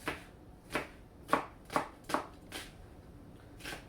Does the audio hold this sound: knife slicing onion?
yes